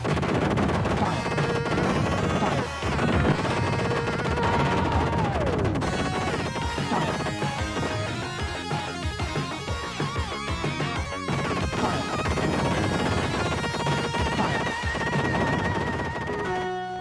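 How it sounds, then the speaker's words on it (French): Dense, continuous barrage of gunfire, explosions and missile blasts from a Sega video game, loud and chaotic with layered synth music throughout and no pauses. "lance-toi dans des combats effrénés ou fuse les missiles"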